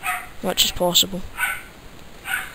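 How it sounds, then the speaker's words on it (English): Dogs barking in short yipping bursts in the background of a Minecraft play session, intermittent and moderately near, with someone talking over them. "Again, I do apologise about the dogs."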